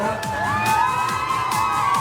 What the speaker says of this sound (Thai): กองเชียร์เชียร์กันลั่นเลยครับเฮียหมู